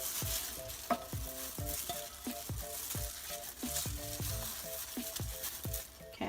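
Chicken mixture bubbling in a pan on a stove while a spoon stirs it, giving a steady sizzle and simmer with repeated scraping and clinking strokes in a regular rhythm, close and fairly quiet, with no talking.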